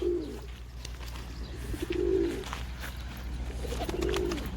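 A stray pigeon coos in three low rolling phrases about two seconds apart, close and clear over a steady background hum, while a flock of play pigeons is being fed; no one speaks.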